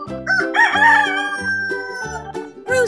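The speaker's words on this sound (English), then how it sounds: "Rooster!" A rooster crows loudly and close by, several drawn-out cock-a-doodle-doo calls following one another across the whole stretch, alone with no talk.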